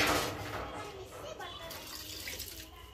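Water pours steadily into a cooking dish to loosen a dry mixture, a continuous splashing flow that is strongest at first and tapers slightly, with people talking at the same time.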